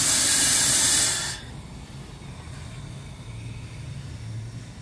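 A steam engine boiler blower pushes air to the firebox with a loud, close hiss that cuts off after about a second, leaving a quieter low rumble and faint hum.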